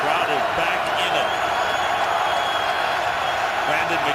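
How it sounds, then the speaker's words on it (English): Loud stadium crowd roaring steadily at a Ravens NFL home game against the Cardinals, a dense broad wash of cheering and noise that holds at full volume without a break. "The crowd is back in it."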